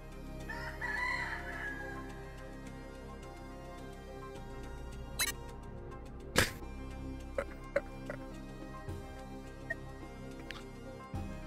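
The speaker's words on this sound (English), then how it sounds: "The chickens will take over when I'm gone." Chickens in the video game dotAGE: a faint rooster crow rises early on, followed by scattered clucks and sharp clicks over a quiet, steady game background.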